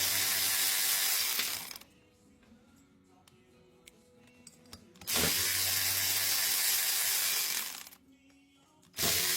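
A small electric ratchet removes the water pump bolts on a Ford 661 tractor, whirring in three loud bursts separated by quieter gaps with faint clicks and handling noise.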